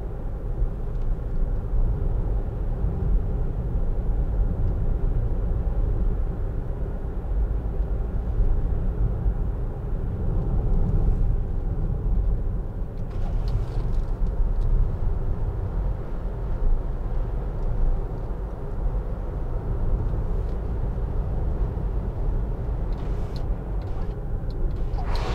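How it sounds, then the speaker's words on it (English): Steady wind rush and road rumble fill the cabin of a 2013 Land Rover Freelander 2 SD4 while driving, a continuous broadband roar with no talk. "Bit of wind noise there until the wind deflector at the front deploys, but then not too bad."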